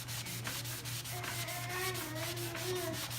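Sanding block rubbed by hand along the edges of painted furniture being distressed, a quiet, rhythmic scratching in repeated back-and-forth strokes.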